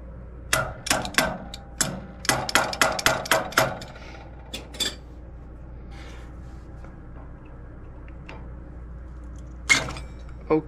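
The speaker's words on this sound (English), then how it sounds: "just gonna use a screwdriver. Probably just a little tappy tap" Screwdriver tapping on a McDonnell & Miller low water cut-off switch: a quick run of sharp metallic taps, roughly ten in a burst, then a few scattered knocks and one more near the end, close and fairly loud over a low hum.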